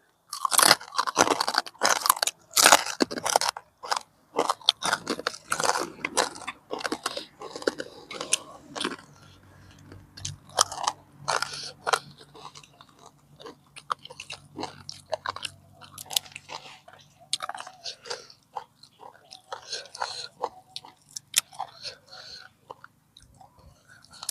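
Loud, close crunching and biting of crispy pork rinds, with a quiet voice murmuring in the pauses between chews.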